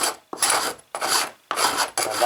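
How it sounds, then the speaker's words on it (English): A metal shave hook drawn down the edge of a wooden skirting board to scrape off filler, giving four close, rasping strokes in a steady rhythm with brief pauses between, no talk. "with your shave hook, what you can do is just draw it down the edge, just a little bit. Just take that flare off the edge."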